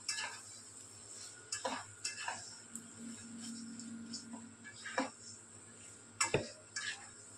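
Mutton frying in a pan gives a faint, steady sizzle, broken by occasional scrapes and clinks of a utensil stirring against the metal.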